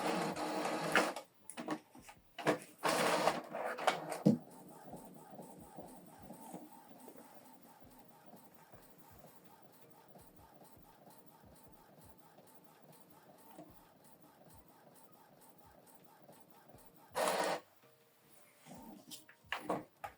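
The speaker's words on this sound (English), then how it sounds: "It's printing." An Epson EcoTank ET-3950 inkjet printer prints a photo: a few loud mechanical clunks and paper-feed bursts open, then a long steady whirring carriage pass with soft rhythmic ticks, closing with another short loud burst and scattered clicks.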